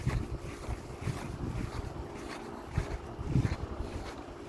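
Reciprocating air conditioner compressor running outdoors, a steady low mechanical hum with broadband wind-like noise and a few soft thumps, fairly close.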